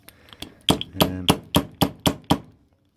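A hammer striking a metal lock housing close up, about nine sharp metallic knocks in a fairly steady rhythm that quickens slightly, then stops.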